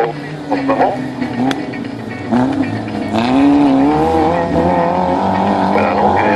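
Race cars roar around a Fol'car circuit at Amfreville/Picauville, engines rising and falling in pitch as they pass close by, with tire squeal mixed in and a commentator talking over the noise.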